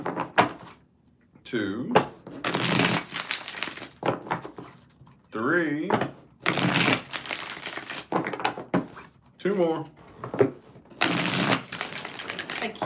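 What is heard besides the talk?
shuffling tarot cards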